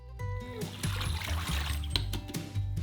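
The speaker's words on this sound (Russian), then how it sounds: "И немного воды, чтобы намочить сахар." Water poured into a saucepan over sugar and corn syrup, a close trickling splash with light spattering that runs steadily for a few seconds, while low thumps and faint background sounds rumble underneath.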